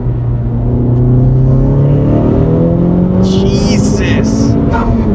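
Honda Civic Type R engine revving hard under heavy acceleration, a loud continuous rising drone heard from inside the car, with brief voices and cabin noise near the end.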